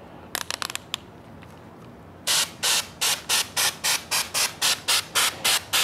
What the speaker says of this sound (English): I'm using sort of a medium spray there.